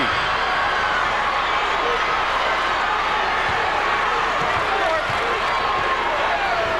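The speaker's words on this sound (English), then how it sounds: "A big crowd in the Assembly Hall enjoying this one" A large crowd roars and cheers without a break through the Assembly Hall during a 1991 Illinois high school boys basketball Class AA quarterfinal, with a commentator talking over the steady din.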